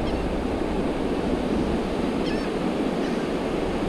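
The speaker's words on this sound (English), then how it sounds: "Little video of the waves and the beach" Ocean waves break on a beach in a continuous, even wash of surf with wind across the microphone, steady and fairly loud with no one speaking.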